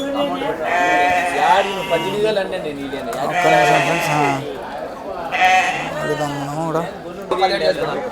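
Sheep and lambs at the Kadiri livestock market bleat loudly and close by in repeated long, wavering calls, several overlapping, with short gaps between bursts.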